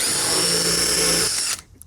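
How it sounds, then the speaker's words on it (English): A power drill with a smart bit pre-drills a hole in composite decking at high speed for about a second and a half, a steady loud whine that stops sharply, close up. "Let's pre-drill the hole."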